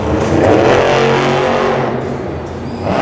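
Megalodon monster truck roaring at Monster Jam in a St. Louis stadium, a loud sustained engine rumble with rising revs filling the arena, no voices over it.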